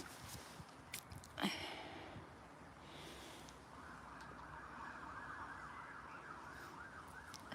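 A faint ambulance siren wails in the distance, rising and falling steadily in the second half, under quiet background noise and a brief thump.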